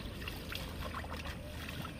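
Water splashes and trickles steadily as freshly picked lily flowers are rinsed clean of dust, a soft continuous wash at close range with no talking.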